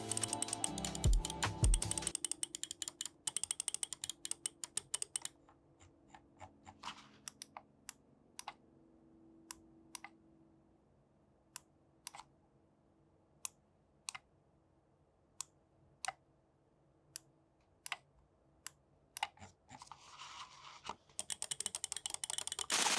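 Sharp mouse clicks in quick bursts, then sparse isolated clicks spaced a second or so apart, with a fast ratcheting scroll-wheel rattle at the start and end.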